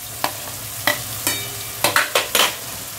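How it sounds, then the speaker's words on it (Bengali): A spatula scrapes and stirs figs with shrimp and fried potatoes in a sizzling pan, with about seven sharp strokes spaced irregularly, then quicker, over a low, steady fry. "পরে চিংড়ি মাছটা দিয়ে দিলাম, দিয়ে ভালো করে কষাবে।"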